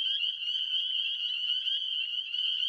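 A frog floating in a large forest pond gives a steady, high, buzzing trill that holds unbroken for nearly three seconds, faint and somewhat distant, with no voices.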